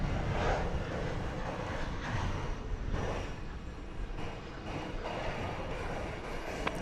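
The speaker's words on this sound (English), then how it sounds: "That's an American Airlines flight 737." An American Airlines Boeing 737 at Dallas Fort Worth airport at night gives off a continuous jet engine rumble and whine, fairly distant and steady, with faint fluctuations and no voices.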